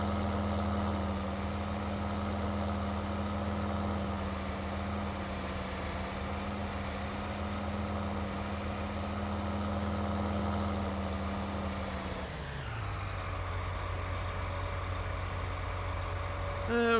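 A tractor engine idles steadily in Farming Simulator 19, a constant low droning hum that drops in pitch around two-thirds through and then settles at a lower tone.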